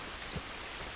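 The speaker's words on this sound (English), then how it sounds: "It's raining." Steady rain falls outdoors in The Last of Us, an even hiss of drops with one soft thud partway through, moderately loud and continuous.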